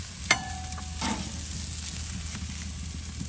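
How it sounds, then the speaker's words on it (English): Short ribs searing in a hot pan for a char, a steady sizzle running throughout with a sharp clank near the start, close and fairly loud, no voices. "So we just wanna give them a good char."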